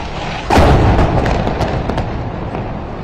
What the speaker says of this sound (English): Airstrikes.